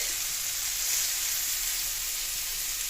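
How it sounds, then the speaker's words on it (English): Butter, garlic and rosemary sizzle steadily in a hot steak pan, a close, even frying hiss with no talking. "add the butter, a tablespoon of garlic, and some rosemary"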